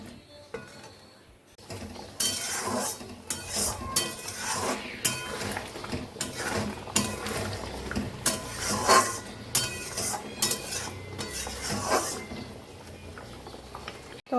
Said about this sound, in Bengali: এখন ভালো করে এটাকে কষিয়ে নেব এর মধ্যে এখন দেবো হচ্ছে লবণ